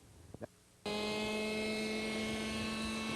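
An RC helicopter's rotor and motor start up after a brief quiet moment, then hold a loud, steady whine with a strong constant tone close by during a low hover and landing.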